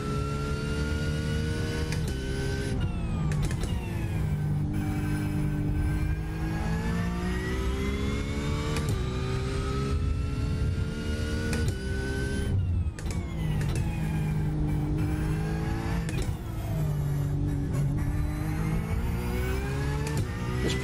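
Porsche 911 GT3R (992) race car engine in iRacing at Aragon, loud and continuous, revving up through the gears with repeated downshift drops and climbing pitch, no talk over it.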